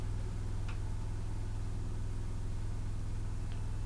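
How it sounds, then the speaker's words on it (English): An on-board generator on an off-road RV camper runs outside while the listener sits inside the camper. It gives a steady, low, muffled engine hum that stays faint and unchanging, with a couple of tiny clicks and no speech. "So let's hear and see what the generator is from inside right here."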